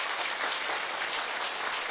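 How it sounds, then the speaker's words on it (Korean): Sustained applause from a corporate seminar audience, dense and steady throughout the two seconds, moderately loud and filling the room with no voices standing out. "우리 회장님 얘기 나온 김에 우리 박수 한번 치고 넘어가게."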